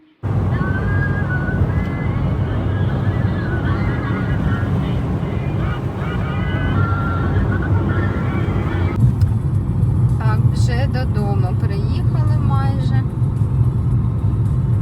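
A car drives along steadily with a loud, continuous engine and road rumble close inside the cabin, and a voice speaks over the noise in the second half.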